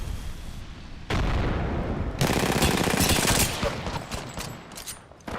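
Enemy gunfire in a video game: bursts of rapid automatic fire, loud and close, broken into several sustained volleys with booming hits and short gaps between them.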